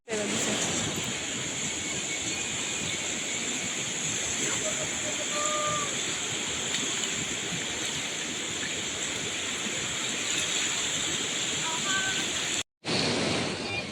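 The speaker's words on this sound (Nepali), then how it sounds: "यहाँको खोला चाहिँ एकदम तेज स्पिडमा कुद्छ" Continuous rushing of the fast-flowing Trishuli River in Nepal, loud and unbroken, cutting out briefly near the end.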